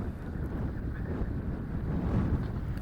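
Steady low rumbling wind buffets the microphone outdoors in the aftermath of Hurricane Milton, a constant muffled roar with no other clear sounds.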